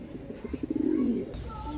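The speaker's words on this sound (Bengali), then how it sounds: "এখন দেখাবো সবজি গররা নর, একদম সাপ চোখের সবজি গররা একটা নর কবুতর" A male Gorra pigeon cooing close by, a short run of rhythmic pulsing coos rising into a drawn-out rolling call, followed by a burst of background noise.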